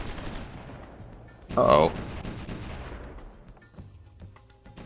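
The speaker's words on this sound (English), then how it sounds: "That's a lot of artillery over here" Artillery fire rumbles in the strategy game Supreme Ruler Ultimate during urban warfare. Low, distant booms roll under a short, louder burst, and a voice briefly speaks over it.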